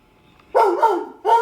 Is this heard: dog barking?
yes